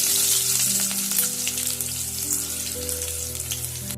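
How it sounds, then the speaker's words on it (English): Curry leaves and crushed garlic sizzle loudly in hot oil in a pan for an Andhra chilli chicken gravy, a steady bright hiss with a few soft stirring scrapes and no talking. "we'll add the curry leaves, and we'll add some of the crushed garlic. Give this a nice mix,"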